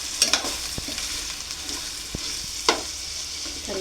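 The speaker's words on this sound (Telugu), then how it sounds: "ఒకసారి మళ్ళీ ముక్కలు ఒకసారి ఇలా కలుపుకుందామండి." Fish pieces stirred in a frying pan for a korameenu fish curry, soft sizzling broken by a few distinct scraping, clinking strokes of the spoon against the pan.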